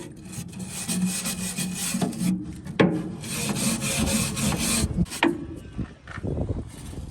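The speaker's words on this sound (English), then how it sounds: "Just going to wire brush the rails, take a good look at the rails" A wire brush scrubs the metal rails of a Massey 12 baler back and forth in rough, rasping strokes, loud and close, with brief pauses between passes.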